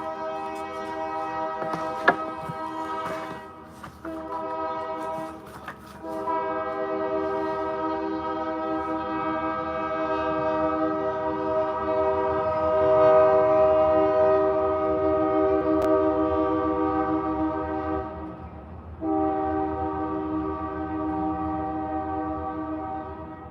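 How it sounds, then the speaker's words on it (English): A train rolls past with a long, loud horn sounding steadily for many seconds, a rich harmonic blare that swells, dips near the end and returns, with faint rail rumble beneath and no talk. "thank God that the train is gone"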